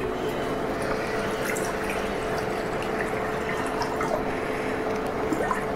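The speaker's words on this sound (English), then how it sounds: "Put some more water." Water running and dripping steadily into a container during a kids' sink-or-float science experiment, a continuous close trickle with no talk.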